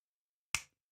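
A single crisp finger snap, close and isolated against silence, with a quick sharp attack and a short fading tail.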